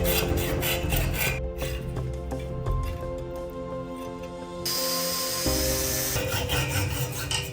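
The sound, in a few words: cutting a shaft so the bearing can spin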